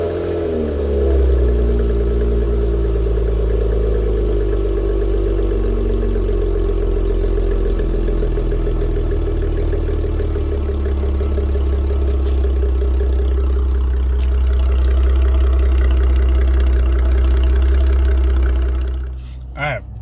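A modified car engine with added airflow runs steadily nearby with a deep, throaty drone and slight rises in pitch, ending with a short clatter.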